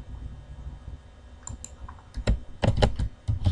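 Keyboard typing into a Google Sheets spreadsheet: a few sparse clicks, then a dense, close burst of rapid keystrokes, with no talking.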